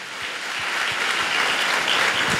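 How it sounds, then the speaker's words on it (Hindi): A church congregation breaks into applause, a dense, sustained crowd clapping that swells slightly and holds steady at a fairly loud level, with no clear speech over it. "तालियां बजा के परमेश्वर को धन्यवाद दीजिए।"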